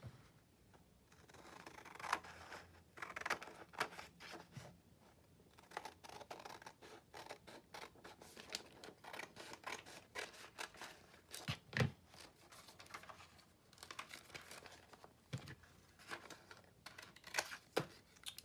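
Scissors or a paper trimmer cut down a re-used paper mail envelope in a quiet room, producing faint repeated snips and dry paper rustles spread across the stretch with no talking.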